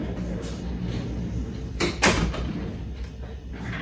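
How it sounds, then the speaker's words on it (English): A door being closed nearby, a couple of sharp knocks and a rattle at the midpoint over a steady noisy background hum. "I'm gonna close the door, it's getting noisy."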